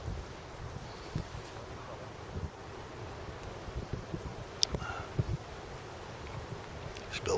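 Steady wind gusting across a lake during carp fishing, a continuous broadband rush with a few faint knocks and rustles, no voices.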